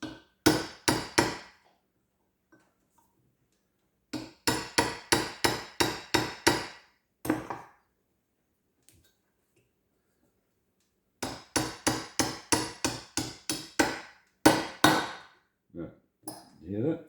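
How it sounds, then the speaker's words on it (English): A hammer lightly taps a part on a Holden six-cylinder Stromberg carburetor in close, sharp bursts of several quick metallic knocks, with quiet pauses between the groups of taps. "Anyway, bigger hammer. I'm only tapping this very light."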